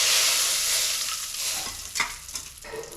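Asafoetida frying in oil on low heat, a soft continuous sizzle with a few sharper crackles and stirring scrapes toward the end.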